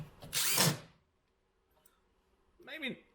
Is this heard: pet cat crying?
no